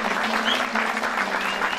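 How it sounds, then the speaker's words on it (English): Steady, dense applause from an audience at a prize ceremony for a wood sculpture art exhibition. The clapping is continuous and fairly loud for the full length, with a faint low hum underneath and no clear talk. "I think alone deserves a huge round of applause for our"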